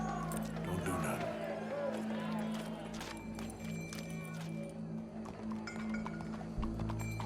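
Horse hooves clip-clop steadily in the video game Red Dead Redemption 2, with an occasional whinny, set against a murmuring crowd and ambient background noise at an execution scene.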